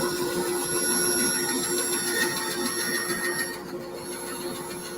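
A bandsaw cuts a curve in wood, running steadily with a constant whine and hum at moderate level. The tone eases slightly toward the end, and nobody speaks.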